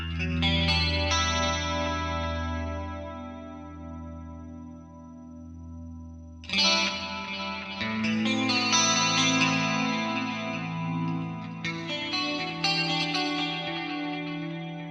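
Shimmering clean electric guitar chords, with reverb placed after delay, ring out with echoing delay repeats and a wide, lingering reverb wash; a fresh strum enters midway, no voices.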